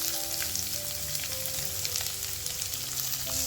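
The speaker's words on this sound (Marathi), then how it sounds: "हा मोकळा करून चांगला परतून घ्यायचा" Onion frying in oil in a pan for a Maharashtrian onion zunka, a steady close sizzle with faint crackles and no talk.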